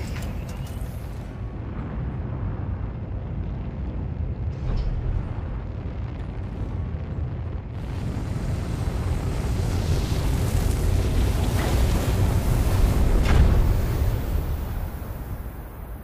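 The weak auxiliary engine of a craft in the game Stellar Blade gives off a steady, broad, rumbling rush that swells louder partway through and keeps going the whole time, with no voices.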